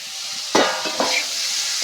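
Potatoes fry in hot oil in a pan and get stirred, giving a close, steady sizzle with two brief scraping stirs of a spatula, no voices.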